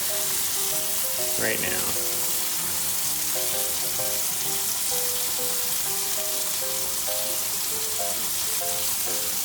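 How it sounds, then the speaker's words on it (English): Steady broadband sizzling of keto fries frying in hot oil over medium heat runs throughout, with a voice speaking briefly over it. "You just want it to sizzle a little bit."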